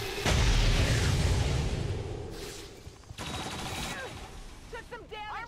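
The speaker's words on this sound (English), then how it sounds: "Let's see what that turret does. Obviously, it takes a shot." A turret in the video game XCOM 2 fires a single heavy shot, a loud boom at the start that rolls off over a couple of seconds, followed by quieter game effects and faint chirps.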